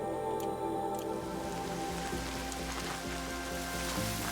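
Rain falls steadily on the ground in the video game Horizon Zero Dawn, a soft continuous patter with scattered drips beneath a faint game soundscape.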